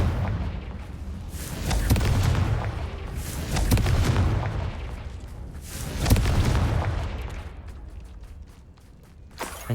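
Repeated booming spell explosions in the Hogwarts Legacy video game, three heavy swelling blasts spaced a couple of seconds apart, each rumbling low and loud before fading, with a final sharp pop at the end.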